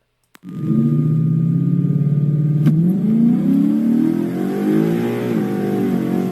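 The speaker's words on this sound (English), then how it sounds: "you can actually hear the motor kind of lug down" A 2013 Ford Mustang GT engine with a 6R80 automatic revs hard and steady at launch, its pitch sagging and bogging down before slowly climbing again; loud and close, with no talking.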